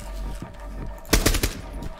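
Video-game gunfire rings out close and loud in a quick burst of several rapid shots that land a headshot. A quieter background of game ambience comes before and after the burst.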